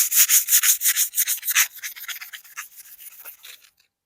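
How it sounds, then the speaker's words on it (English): Scraps of 60 grit sandpaper rub rust off the blade of a vintage rip saw in quick, rhythmic back-and-forth strokes, loud and close at first, then gradually lighter and fading out, with no talk. "we have 60 grit sandpaper here, just some scraps. We're gonna use it to sand away"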